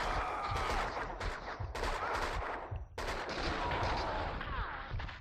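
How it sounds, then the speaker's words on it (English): Gunfire in the video game Max Payne 2, a rapid burst of repeated close shots with sharp cracks and echoing reports, a brief pause, then more shooting continuing to the end. "Someone must have heard the gunfire."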